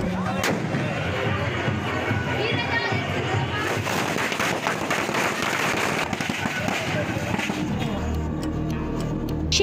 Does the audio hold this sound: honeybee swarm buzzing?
no